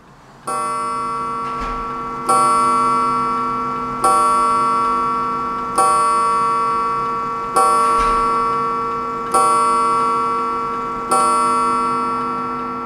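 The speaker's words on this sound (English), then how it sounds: "bring it back up to the 12 and listen how many times it chimes" A vintage Seth Thomas mechanical clock chimes seven times in a steady, evenly spaced series, each ringing stroke decaying slowly before the next.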